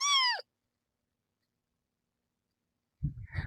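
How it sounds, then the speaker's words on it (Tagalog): A pet cat gives a single clear, rising-then-falling meow close by, followed by a long silence and then a brief soft rustle. "Nakikisali yung pusa ko."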